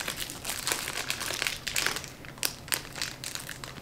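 A crinkly plastic wrapper of shark-shaped candies is pulled open, with irregular bursts of close, soft crackling and crumpling.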